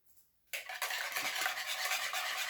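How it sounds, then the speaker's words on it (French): After a half-second of near silence, a small whisk begins beating whole eggs and yolks in a bowl for a tuna and preserved lemon clafoutis, a rapid, even, close swishing that keeps up steadily to the end. "je vais commencer par fouetter les œufs entiers plus les jaunes"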